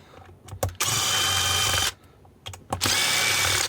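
A power drill unscrews four screws from the bottom of a small Silverfish-style e-bike battery during a teardown, sounding as two close, loud, sustained whirring bursts, each opened by short trigger blips, with quiet pauses between them.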